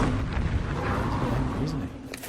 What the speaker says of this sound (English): Oh, he breathes fire.